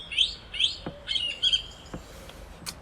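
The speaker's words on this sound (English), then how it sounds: "It is a song thrush." A recorded song thrush sings short, bright, whistled phrases, clear and fairly close, with a few sharp clicks between them and no voices.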